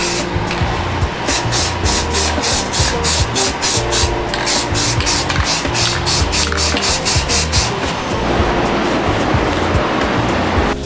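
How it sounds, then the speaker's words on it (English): Aerosol primer is sprayed onto minibike parts in a series of rapid, short hissing bursts, close and loud over a rough, rubbing background, with a longer continuous spray near the end. "We're using just standard primer, probably 2 coats, maybe 3 depending on how it lays on."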